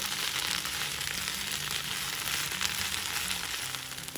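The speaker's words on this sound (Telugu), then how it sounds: "ఇలా పుదీనాని వేయించుకోవాలి." Mint leaves frying in a hot pan give a steady, close sizzle with light crackling that holds evenly for a few seconds before easing slightly at the end.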